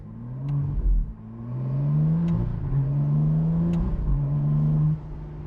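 A 15-year-old Aston Martin Vantage V12 engine revs up and holds a steady, throaty drone, with a slight dip and surge in pitch, close and continuous with no talking.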